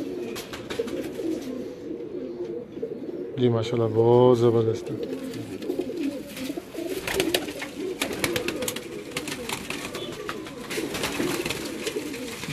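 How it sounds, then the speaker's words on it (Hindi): A pedigree Kamgar pigeon coos once in a short run of throaty, rolling notes partway through, with people talking around it and faint chirps and clatter in the background. "ये कमगर कबूतर है"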